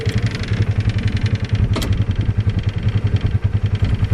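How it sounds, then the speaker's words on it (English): A cheap UTV with a manual dump bed idles and runs in reverse gear, its small engine giving a steady, pulsing clattery drone close by, with one brief sharp click partway through. "Let's see if the reverse gear works in it here."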